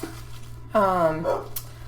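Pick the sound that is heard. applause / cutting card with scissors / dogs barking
dogs barking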